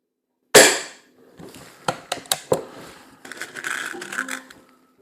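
A single sharp pop from an SMK XT501 .22 CO2 air pistol firing pellets, followed by a series of clicks and mechanical clatter, close and fairly loud, with no voices.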